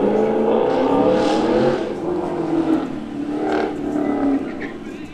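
A white Chevrolet Camaro autocross car accelerates around a cone course at a car show, its engine droning and rising in pitch, loud and fairly near with a steady roar.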